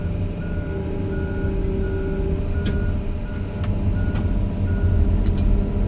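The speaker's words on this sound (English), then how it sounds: "Turn that beeping alarm off so we can focus." A John Deere 210G excavator backs up on a hillside, its reversing alarm beeping in a steady repeating rhythm over the loud, close drone of the diesel engine.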